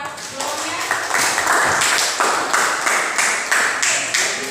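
Classroom applause for a student, a burst of many hands clapping at close range that holds steady throughout, with voices mixed in beneath the claps.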